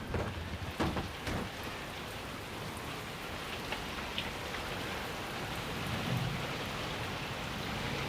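Steady rain pours down outside on a stormy night with a constant hiss, a few sharper drips early on and a low rumble beneath, no voices.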